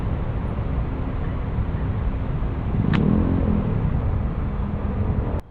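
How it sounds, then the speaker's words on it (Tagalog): Road traffic on a busy street, with a continuous loud hum of car and motorcycle engines, a swell of a passing vehicle near the middle and a brief sharp click at the end. "Tingnan nyo guys yung traffic."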